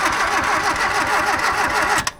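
An old Volvo engine left abandoned for 31 years, run from a cheater switch, churning with a steady rhythmic cranking that catches into a rough running note, loud and close, ending with a sharp clack.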